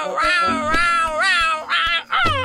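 A frightened cat shut inside a bundle meows and wails in long, wavering cries, loud and close, with brief breaks between calls and no talking.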